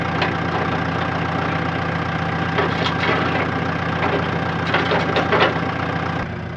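An old tractor idles at a Portuguese homestead, its engine knocking in a steady, loud low chug that carries on without pause, with faint clatters and creaks over the top and no speech.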